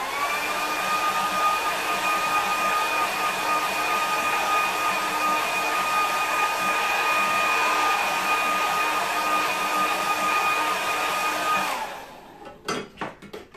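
A hair dryer runs steadily and loudly on a watercolour painting of a harbour sunset, with a constant whine for about twelve seconds. It then cuts off and is followed by a few faint clicks and knocks.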